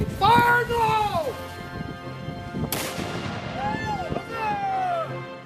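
Historical reenactors fire muskets on command at an outdoor performance: a shouted order, then a sharp loud volley crack echoing out, followed by further shouted commands over background crowd noise.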